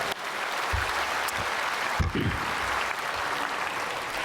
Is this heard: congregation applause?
yes